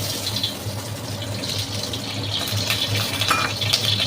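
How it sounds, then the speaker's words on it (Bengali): Oil pours into a hot pan in a steady, continuous rush with a faint rattle, close and fairly loud throughout, and no voices. "দেখো এখানে একটু আরেকটু তেল দিয়ে দিই।"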